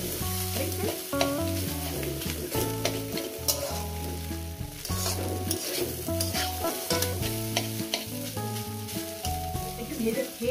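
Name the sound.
frying chopped boiled egg with vegetables in a pan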